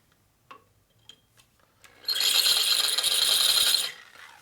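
Drill on a custom Harley chopper part spinning without cutting, a few light ticks and taps, then a bright high whine burst of about two seconds, fairly close, no voices.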